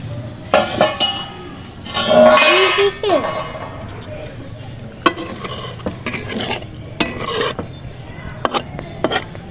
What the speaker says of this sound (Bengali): আমি ঢাকনাটা খুলে দেখছি লেমন চিকেনটা কেমন হয়েছে